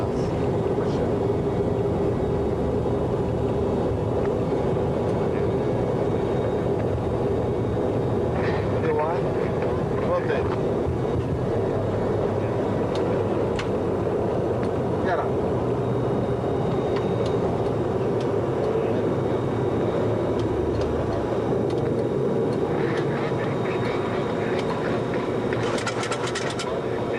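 A VASP Boeing 737-200's engines at takeoff power, a loud steady roar with a low rumble heard from inside the cockpit, continuous for the whole stretch while crew voices talk over it.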